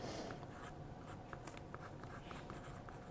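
A pen nib scratches across thin 52 GSM Tomoe River paper in faint, close, irregular strokes, with brief ticks between marks and no talking.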